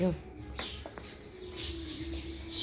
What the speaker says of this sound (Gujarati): જો ચકલીઓનો અવાજ સરસ સંભળાઈ રહ્યો છે.